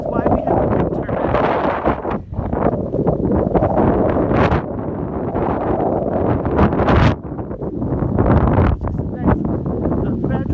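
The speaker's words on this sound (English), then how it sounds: "there's always a wind blowing, which is why we have the wind turbine." Strong wind gusts buffeting the microphone at an open prairie fossil park overlook, a loud, steady roar with brief dips, and a voice faintly audible beneath it.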